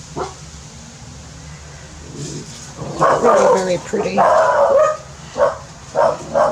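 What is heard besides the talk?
dog barking and growling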